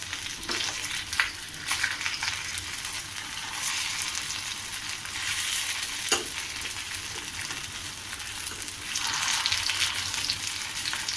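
Aloo poha cutlets pan-fry in hot oil, giving a continuous crackling sizzle that swells and fades with occasional louder pops and spatula scrapes, close and unaccompanied by speech.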